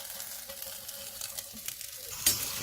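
Roasted garlic being tipped into a big stock pot of spare ribs, pork bones and chicken thighs for bak kut teh, a continuous sizzle and stirring clatter ending in a sharper scrape or clink near the end, with no talking.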